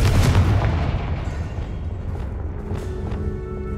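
Confringo spell from Hogwarts Legacy, a fiery blast in a spider-filled area: one loud, close boom bursts at the start and rolls off into a fading rumble, with a few crackling pops trailing after.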